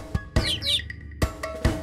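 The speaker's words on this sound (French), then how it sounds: "Le petit oiseau, petit oiseau, petit oiseau." A small bird chirping in a children's animal song, giving a few short, bright chirps and a quick twittering trill between soft percussive taps, close and clear.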